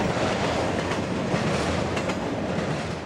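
A CSX freight train rolls past at milepost A602 in Folkston, Georgia, making a loud, steady rumble with rhythmic wheel clatter throughout.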